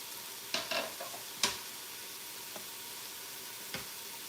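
Sliced garlic goes into a beef stew mixture in a pot, making a soft sizzle with a few sharp stirring clicks and knocks near the start, then quieter stirring.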